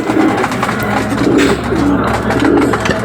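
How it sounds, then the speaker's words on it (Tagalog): Pigeons coo repeatedly and close by at a loft, soft throaty calls overlapping in a steady stream with faint rustling, no talking. "Ayan, si Dalubhasa bumaba na mga kalapatids"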